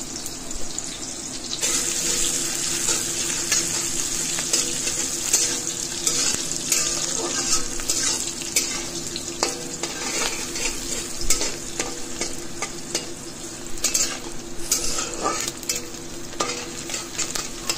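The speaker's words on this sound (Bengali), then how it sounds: "পেঁয়াজটাকে আমি একটু ব্রাউন হওয়া পর্যন্ত ফ্রাই করব" Onions fry for chicken yakhni pulao in a pan, a loud, steady close sizzle with repeated scraping stirs running throughout and no voices.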